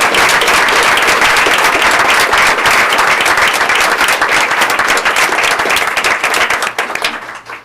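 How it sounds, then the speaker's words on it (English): Loud, sustained applause from a board meeting audience honoring Impact Award winners, dense clapping throughout that tapers slightly near the end. "So I'd like to ask for another round of applause for our Impact Award winners."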